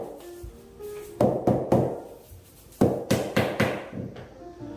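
Hollow knocks on a hard apartment floor, tapped to find loose flooring during a pre-move-in inspection, come in two clusters of several taps each, close and fairly loud with short gaps of quiet between.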